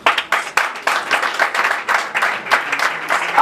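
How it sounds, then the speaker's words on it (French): A gathered crowd at a ceremony claps steadily and briskly, a dense, lively patter of many hands continuing throughout without pause. "Applaudissez"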